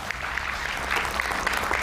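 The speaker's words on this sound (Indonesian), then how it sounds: "Kita berikan tepuk tangan." Studio audience applause on an Indonesian television talk show, a steady, fairly loud burst of clapping that fills the whole moment without any voice over it.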